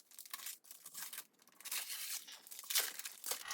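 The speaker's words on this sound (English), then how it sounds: "the last thing there is for me to do is to unwrap my book for the next 2 weeks" Wrapping paper torn and crinkled off a book, a series of quick close rips and rustles in uneven bursts, louder toward the end, with no talking.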